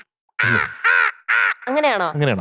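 A child imitates a crow's caw with five short, loud vocal bursts in quick succession, the harmonic cries rising and falling like cawing, spoken close to the mic.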